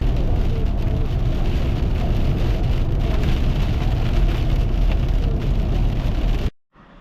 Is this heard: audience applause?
no